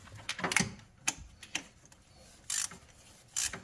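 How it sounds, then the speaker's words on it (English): A ratchet wrench tightens a spark plug on a Subaru 2.5L engine, giving a few soft clicks and short sharp bursts of ratcheting with quiet gaps between. "we're gonna tighten her up now."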